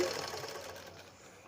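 An ordinary household sewing machine stitching the edge of a saree, a brief steady whirring run up close that winds down toward the end.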